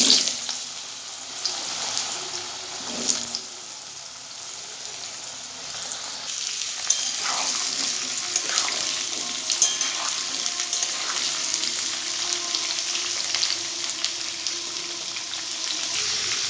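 Chunks of papaya and potato cut into large cubes crackle and sizzle in hot oil for Bengali papaya dalna, a steady dense frying hiss with a few louder spits and clicks, no talk.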